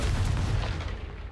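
A Confringo blasting spell goes off in the Hogwarts Legacy video game, a sustained loud rumbling explosion with heavy low boom that stays dense for over a second before easing slightly.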